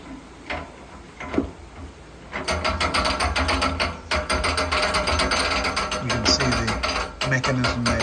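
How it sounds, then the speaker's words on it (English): A narrowboat lock paddle mechanism ratchets loudly as the paddle is raised, with rapid continuous clicking and metallic clatter that starts after a couple of quieter seconds and carries on steadily to the end. "Mechanism there pulling the paddle up"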